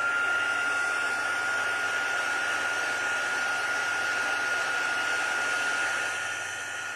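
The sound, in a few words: heat tool heating embossing powder on a card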